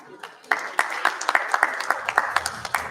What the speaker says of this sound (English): We can keep the applause going.